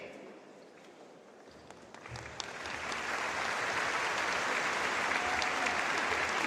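Graduation crowd at a high school ceremony applauding faculty members, a sustained clapping that swells from scattered claps into broad, dense applause filling a large venue.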